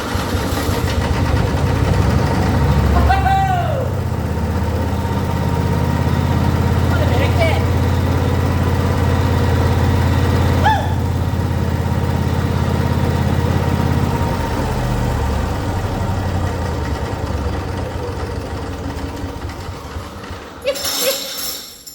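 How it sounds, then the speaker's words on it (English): Quad mulcher engine restarting with a brief rising crank, then settling into a steady low idle rumble that runs throughout, close and fairly loud, with no talking. "Now I have it set to idle, so if it doesn't start the first time, I might have to pull it up a bit more."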